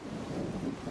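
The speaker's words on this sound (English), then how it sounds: "the rain beat down harder than usual" Heavy rain pouring down in a thunderstorm, a dense steady roar with a low rumbling undertone, continuous and close with no voices.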